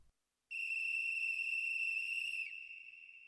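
A high, steady whistle tone rings out alone for about two seconds, clear and sustained with bright overtones, then trails off more quietly.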